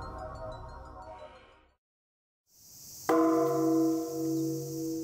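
A large Edo-period Japanese temple bell rings with a deep, long-sustained hum that swells and fades, following a brief pause after an earlier tolling tone.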